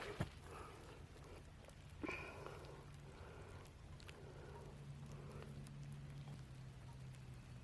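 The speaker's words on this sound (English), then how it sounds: "can you hear the rain?" Soft, steady rainfall patters on leaves and ground in woods, faint and continuous, with a couple of brief knocks early on.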